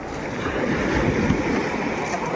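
A steady roar of big ocean waves and wind noise, loud and continuous, heard from a boat on rough water.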